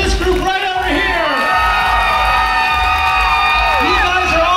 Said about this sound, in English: Let's give a round of applause for this group right over here